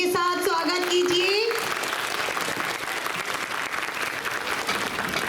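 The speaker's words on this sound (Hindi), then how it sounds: "तो जोरदार तालियों के साथ स्वागत कीजिए" An audience at a Dussehra celebration claps to welcome a short play, brief music tones at the start giving way to sustained, dense applause that holds steady to the end.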